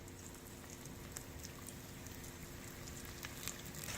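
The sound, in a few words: chicken momo dumplings pan frying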